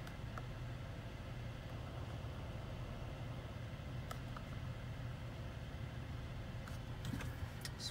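A 2019 Chevrolet Traverse High Country engine runs with a low, steady hum heard from inside the vehicle, quiet and constant with a few faint clicks.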